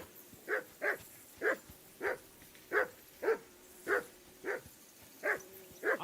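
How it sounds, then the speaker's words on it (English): A dog barks in the medieval video game Kingdom Come: Deliverance II, giving about a dozen evenly spaced, mid-distance woofs in a steady rhythm with quiet pauses between them. "I assume you can hear that damn dog of yours barking."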